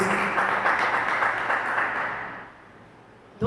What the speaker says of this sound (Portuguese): Vamos aplaudir e glorificar o Senhor